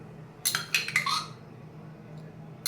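A spoon clinks against glasses of carrot juice as sabja seeds are stirred in: a quick cluster of three or four bright taps, a pause, then one more close clink.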